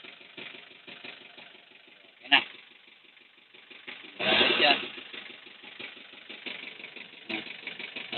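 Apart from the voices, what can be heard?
engine idling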